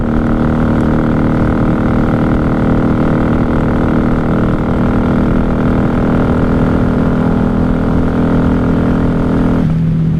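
A 1994 Honda Magna 750 VF750C motorcycle cruising on a highway at night, its V4 engine holding a loud, steady droning hum with constant wind rush close to the rider, pitch shifting slightly near the end.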